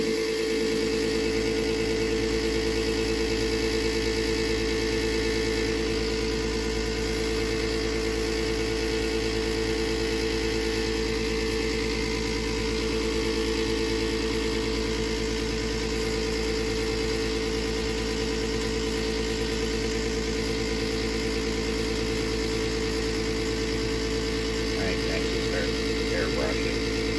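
A Lionel O scale Big Boy model steam locomotive runs continuously, giving a steady, fairly loud mechanical hum and whir close by with little change throughout.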